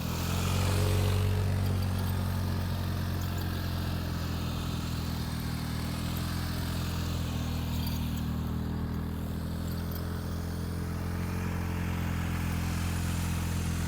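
A motorcycle engine idles and putters at low speed with a steady mid-pitched drone, throttle rising and easing gently as the rider works the clutch through slow-speed maneuvers, loud and close without speech.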